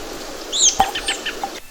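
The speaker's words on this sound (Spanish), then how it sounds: "Nuestros amigos pajaritos, exacto, tienen ese sonido peculiar." Cartoon bird in a Pocoyo video game giving a short burst of high chirps and tweets, close and clear, with a brief soft flutter.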